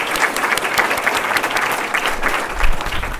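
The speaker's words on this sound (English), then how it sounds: "let's give them a round of applause" Audience applause at an elementary school community meeting, a steady patter of many hands clapping together that swells briefly near the end before tailing off.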